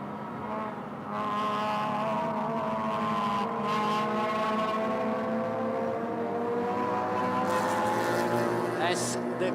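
Race cars in the TP category lapping the circuit on the final lap of a Malaysia Championship Series round, their engines droning loudly and continuously with shifting pitch as cars pass, under commentary.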